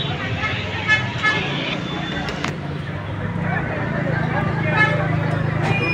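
Congested traffic in a crowded Darjeeling street near a ticket counter, a steady rumble of idling vehicles with a few short horn toots, heard under continuous nearby talk.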